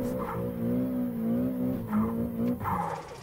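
A Nissan 180SX in the Assetto Corsa racing game screeches its worn tires under hard braking, a loud sustained squeal with wavering pitch over engine noise, rising again in short bursts.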